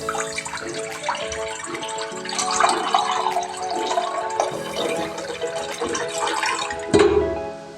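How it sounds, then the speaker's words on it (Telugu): Water pours from a vessel into a kadai set on a lit gas stove while plain noodles are being cooked, a steady splashing stream that runs for several seconds with a slight surge near the end, close and alone. "ఇందులో వాటర్ అనేది యాడ్ చేసుకుందాం."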